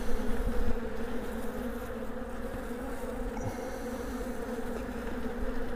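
Honey bees buzz at an opened beehive on a mild February day, with a dense, steady hum that carries on without a break. The sound is close and fills the whole clip.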